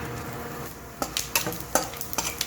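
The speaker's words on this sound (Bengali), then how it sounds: "তেজপাতা দিয়ে দিলাম, শুকনো লঙ্কাটাও দিয়ে দিলাম আর দিয়ে দিচ্ছি গোটা জিরে।" Bay leaf, dried red chilli and whole cumin frying in hot oil, giving a steady low sizzle that swells into sharp crackling pops and spits over the last second and a half.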